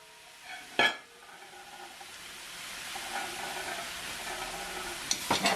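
Oxtail sizzling in a pot over medium heat as it is stirred, with a sharp scrape of the spoon against metal, then a steady frying hiss and crackle that builds slightly, close up with no talking.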